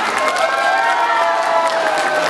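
Wedding guests clap and cheer at a banquet, a dense, loud wash of applause with whoops from the crowd, continuous throughout.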